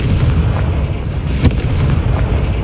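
Confringo spell blast in Hogwarts Legacy, a loud rumbling explosion with a sharp crack near the middle, dense low booming throughout and close up.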